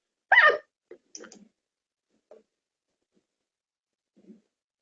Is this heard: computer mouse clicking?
yes